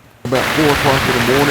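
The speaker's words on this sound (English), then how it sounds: "the rain is coming, and I mean, it is hammering this tent" Heavy rainstorm pounding a TrailLark Sparrow one-person backpacking tent in the early morning, a dense, loud wash of drumming rain that starts abruptly, with someone speaking over it.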